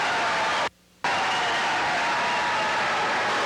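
Basketball crowd at a 1985-86 boys high school game applauding and cheering in a steady broadband roar, briefly cut to silence for a moment before resuming at full level.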